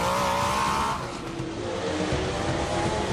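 Porsche historic rally car taking a hairpin bend at the Rallye des Cévennes, engine loud and close with tires scrabbling, the tone dropping as it brakes through the turn.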